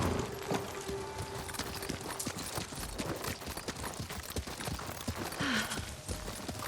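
Hoofbeats of a horse galloping in Ghost of Tsushima, a quick, steady clip-clop rhythm over outdoor ambience at moderate volume.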